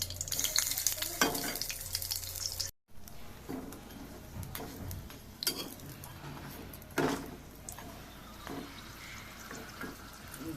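Stuffed breakfast snacks fry in oil in a pan, a continuous soft sizzle with occasional clinks and scraping of utensils and a brief pause early on, heard close and fairly quiet.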